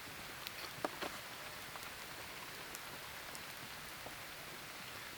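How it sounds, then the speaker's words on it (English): Steady rain falling in the woods at night, a dense even hiss with scattered close raindrops tapping on surfaces, no voices. "And it's starting to rain."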